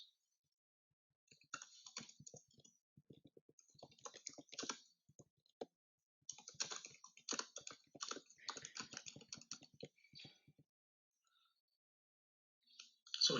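Typing on a computer keyboard, bursts of quick light key clicks in uneven runs separated by short pauses, close and quiet with no talking.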